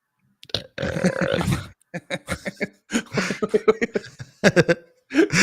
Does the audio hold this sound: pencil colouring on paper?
no